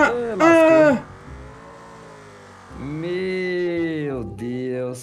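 A car engine in BeamNG.drive revs up in several rising and falling pulls, with clear harmonic whine and loud bursts separated by quieter idling stretches.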